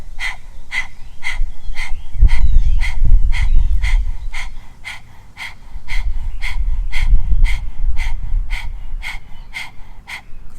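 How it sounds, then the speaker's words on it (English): Rapid panting with the tongue out during a Kundalini yoga breathing exercise: even, rhythmic breaths about two per second, close and loud, with a low rumble swelling underneath. "So stick your tongue out and start panting like a dog."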